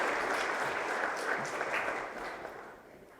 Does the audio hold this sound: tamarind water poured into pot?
no